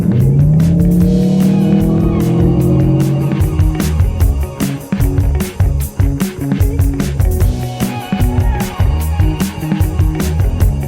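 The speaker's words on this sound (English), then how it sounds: "This is supposed to make it sound more like a gasoline engine, I guess." Synthetic sporty gas-engine sound from a Genesis GV60 electric car in sport and boost mode, a loud droning tone rising in pitch as it accelerates, then a rapid stuttering burble of pops, heard alone.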